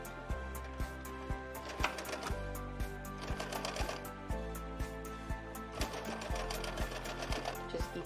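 A sewing machine stitches a face mask seam in a fast, steady run of mechanical clicks and hums that briefly slows and pauses, close and fairly quiet.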